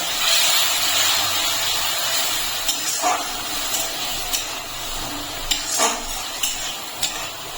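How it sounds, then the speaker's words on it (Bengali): Spice paste frying in a pan as a little water goes in, giving a steady loud hiss and sizzle with occasional clinks and scrapes of a stirring spoon against the pot. "এখন আমি এর মধ্যে একটু জল দিয়ে দিচ্ছি।"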